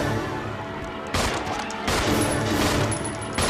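Gunfire from the video game Resident Evil 0: several loud, sharp bursts of shots in quick succession over a dense, noisy game soundscape, with no talking.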